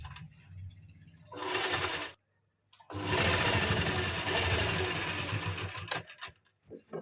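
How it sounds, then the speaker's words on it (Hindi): Close sewing machine running long basting stitches along a folded kameez hem, a short burst of whirring followed by a pause, then a longer steady run before it slows and stops. "बड़े टांके की सिलाई लगा देंगे"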